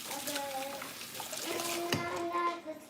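Tap water runs into a sink as fingers are rinsed, a soft splashing trickle under a voice and adult talk nearby.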